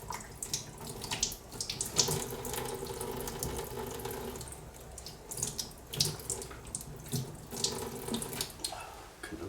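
Running tap water rinses a Japanese straight razor or sharpening stone at a sink, a steady close splashing stream that shifts in intensity as the blade or stone passes through the flow.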